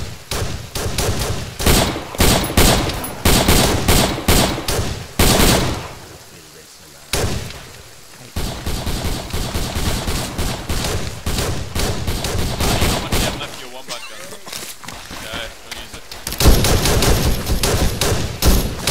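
Video-game gunfire in a military shooter, dense bursts of rapid shots and heavy booming fire filling most of the stretch, with brief lulls and occasional voices calling out over it.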